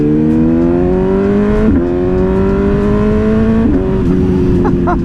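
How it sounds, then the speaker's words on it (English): A BMW M1000R motorcycle with a full titanium exhaust and stage 1 flash roars loud and close as it accelerates through rising gears, pitch climbing then dropping at each shift, with brief crackles near the end. "let's hop on this bitch and head over to Warhorse"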